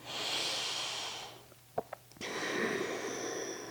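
Deep breathing during a slow yoga side-body stretch, a long airy inhale-like hiss fading out, a short pause with a couple of soft nasal puffs, then another sustained breath, close and steady with no talking.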